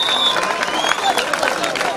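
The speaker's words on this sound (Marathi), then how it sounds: "टाळ्या टाळ्या टाळ्या." Crowd applause and cheering at a village kabaddi match, a dense, steady wash of clapping and voices that holds at a loud level throughout.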